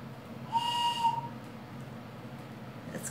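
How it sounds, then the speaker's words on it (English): A whistle mounted on a stick is blown once, a single steady, fairly shrill tone lasting under a second over a quiet room hum. "Remember my stick with the whistle on it?"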